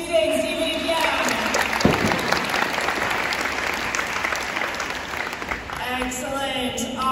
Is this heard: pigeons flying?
no